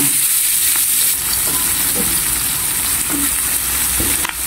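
Onions and garlic fry in a generous amount of oil for a fried fish dish, giving a steady, close hiss of sizzling broken by a few soft stirring knocks, with no voices.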